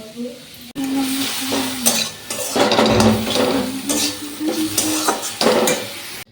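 Fish fries in a pan with a continuous sizzle, broken by bursts of stirring and metal clatter against the pan. It is fairly close and loud, with a brief murmur of voice early on.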